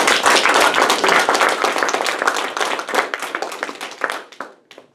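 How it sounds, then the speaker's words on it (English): A round of applause from a small group at a speaking event honoring members, dense clapping that starts full and gradually thins out into a few scattered claps, with no speech over it. "let's give everybody a big round of applause"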